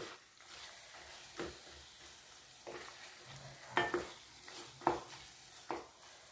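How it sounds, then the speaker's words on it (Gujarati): Raw mango curry with jaggery being stirred in a pan, the spoon scraping and clinking in soft, irregular strokes over a faint cooking sizzle, with no one talking. "તો બધું સારી રીતે મેં મિક્સ કરી લીધું છે"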